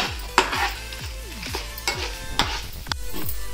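Three spoons of urad dal frying in a pan for a mint chutney, with sharp spoon scrapes and clinks against the metal over a steady sizzle, close and alone.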